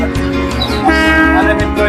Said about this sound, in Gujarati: અહીંયાથી ટ્રેન પસાર થઈ છે